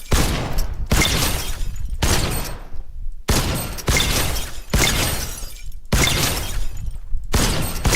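Fortnite gunfire landing headshots: a series of heavy, crunching shots repeating roughly every second, each followed by a brief gap, loud and dense game audio with no talk.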